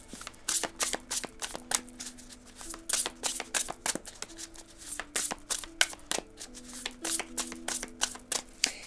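Tarot cards shuffled by hand ahead of a reading, a steady run of crisp riffling bursts and soft slaps repeating close up with no one talking.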